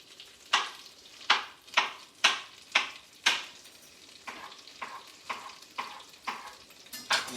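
Bananas being cooked for bananas foster sizzle in a pan, with a series of regular scraping stirs every half second or so, each swelling and fading over a low frying hiss.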